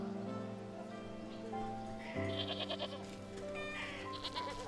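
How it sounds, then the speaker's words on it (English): Sheep in the video game Wytchwood bleat repeatedly over a soft musical backdrop, several wavering calls in sequence, moderately loud and close. "Yes, Abe, I love the pride sheep"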